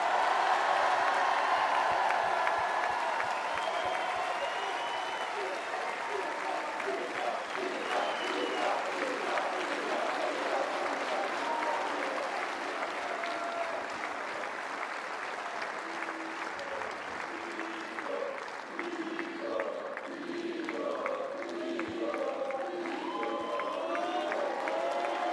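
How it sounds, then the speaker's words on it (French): Sustained crowd applause with cheers in a tennis stadium at Roland-Garros 2025, honoring Nicolas Mahut during a tribute ceremony; dense, loud clapping that carries for the full stretch, with a voice faintly audible underneath later on. "Un tonnerre d'applaudissements pour monsieur Nicolas Mahut."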